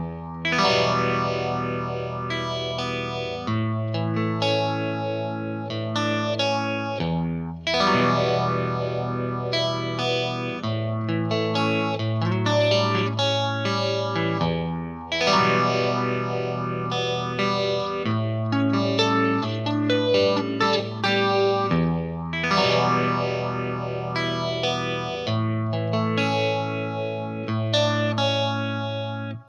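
Electric guitar with chorus and echo effects plays the riffs of a song, cycling through repeated low chord-and-lick phrases at a steady medium pace, full and sustained for about half a minute with no voices.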